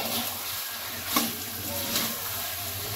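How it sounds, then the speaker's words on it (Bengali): Meat sautés in a hot pan, a steady, close frying hiss with a couple of brief spatula scrapes and clinks, no voices. "এই দেখো মাংসগুলো দিয়ে নিয়েছি, এবার একটু আমি কষিয়ে নেবো"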